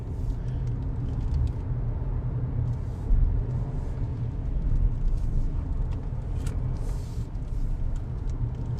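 Cabin drone of a Proton X70 Standard SUV driven briskly through corners, a steady low engine and road rumble that swells slightly and then settles, with faint higher rattles and no talking.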